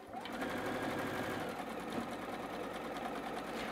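A sewing machine stitching a quilt block of Michael Miller printed fabric, running in a fast, steady mechanical whir with a fine rapid needle rhythm, close and continuous with no talking.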